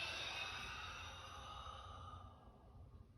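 A long, slow exhale during a breathing exercise in a breathing arts class, a close, breathy sigh that starts fuller and tapers off over about three seconds, with no talking.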